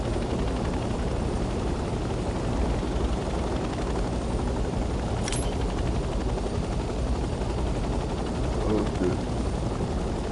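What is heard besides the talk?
helicopter flying in video game Hell Let Loose Vietnam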